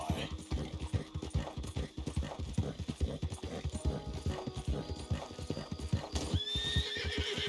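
A horse's hooves pound in a rapid, steady galloping clip-clop in Red Dead Redemption 2, loud and continuous, with a brief whinny near the end.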